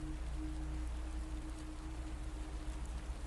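Rain falling steadily, a dense even hiss of drops with a low rumble and faint hum beneath, continuous with no pauses.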